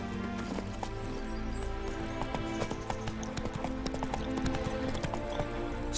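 Steady clip-clop of horse hooves trotting at an even rhythm in a video game, fairly close, with no talking.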